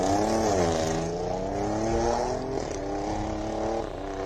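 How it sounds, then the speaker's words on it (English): A race car launching at the Simola Hillclimb, its engine revving hard and climbing through the gears with rising, shifting pitch, loud and sustained throughout. "I love that sound. That was a pretty decent, was a decent good launch."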